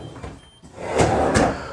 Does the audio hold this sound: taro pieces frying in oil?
no